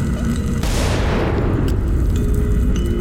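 A bomb blast in the Worms video game, a loud sudden boom with a spreading, hissing roar that fades slowly over a steady game background, with no talking.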